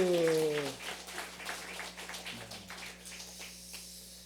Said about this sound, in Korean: 우리 바오에게 큰 박수 한번